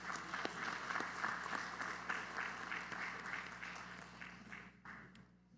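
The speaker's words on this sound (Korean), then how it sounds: "우리 할렐루야 찬양대 또 주일 경배 찬양팀 축복하고 격려하는 박수 하도록 합니다." A church congregation claps in blessing and encouragement for the Hallelujah choir and Sunday worship team at a Korean Sunday service, sustained applause under a low hum that thins and fades toward the end.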